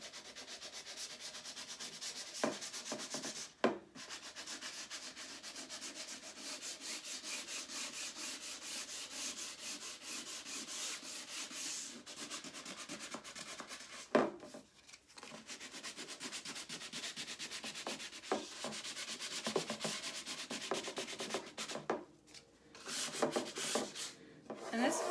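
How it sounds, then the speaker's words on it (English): Sandpaper rubs back and forth over a painted surface to distress it, a continuous dry scratchy rasp with brief pauses between strokes, close and steady. "I'm just going to sand this just to wear it down a little bit."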